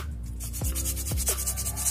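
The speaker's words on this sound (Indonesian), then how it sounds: "lalu saya asah menggunakan amplas kertas gosok" Paper sandpaper scrapes against a blade in steady, close rubbing strokes, with a few sharper rasps standing out, and no talking.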